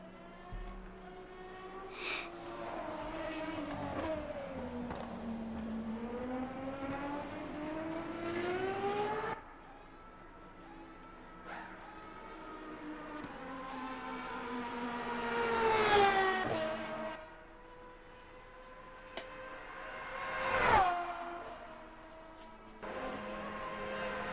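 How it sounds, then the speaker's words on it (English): Race car engines roar in a multi-class Le Mans sim racing game at Paul Ricard, with rising and falling revs, gear shifts and cars sweeping past in loud surges over a sustained engine drone. "you can hear the sound of the engines, the roar of them engines"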